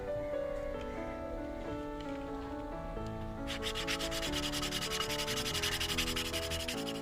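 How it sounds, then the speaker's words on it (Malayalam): Sandpaper rubbed by hand over a wooden test tube planter, a close, rhythmic scratching that gets brisker and more pronounced in the second half, with faint music underneath. "കുറച്ചൊക്കെ ഒന്ന് സാൻഡ് ചെയ്തൊന്ന് സ്മൂത്ത് ചെയ്തെടുക്കാം"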